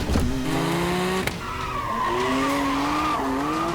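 A Bugatti EB110 Supersport with a 525 bhp turbocharged engine screams close by on track, its rising revving whine and gear changes layered over loud tyre squeal and skidding, with no talk.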